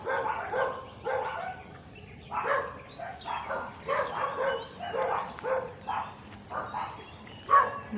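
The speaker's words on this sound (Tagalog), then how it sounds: "ingay ang mga aso." Several dogs bark repeatedly at a moderate distance in a rural Philippine province, the barks coming in irregular bursts with faint birds and insects in the background.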